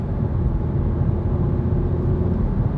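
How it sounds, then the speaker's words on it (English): Car engine under full throttle in sixth gear, a loud, dense low rumble that holds steady throughout without any clear rise in pitch. "If I drop us right down to sixth and I floor the throttle"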